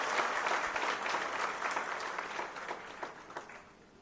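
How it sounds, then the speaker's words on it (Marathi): An audience claps loudly in a welcoming burst of applause for Devendra Fadnavis at a political gathering, dense and steady at first and then thinning and fading out over a few seconds. "एकदा जोरात टाळ्या वाजवून आपण त्यांचं स्वागत करू।"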